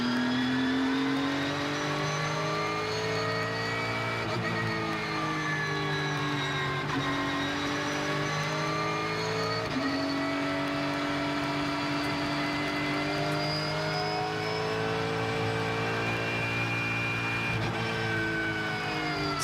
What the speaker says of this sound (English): Let's ride on board with Miguel Peludo. In fact, I'll go quiet, let's listen in.